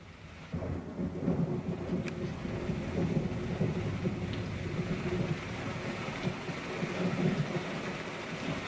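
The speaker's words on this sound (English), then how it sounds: "you can feel that thunder roll through the room" Deep, continuous rumbling thunder rolling on with steady rain in the background, played through a Bose 700 soundbar with subwoofer and surround speakers, low and heavy throughout, with no voices.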